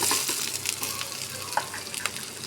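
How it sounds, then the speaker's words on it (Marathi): Onion frying in coconut oil in a pan for a ground coconut-onion spice paste, a soft steady sizzle with faint crackles and a few small pops, fairly quiet and close, with no voices. "आता कांदा भाजू"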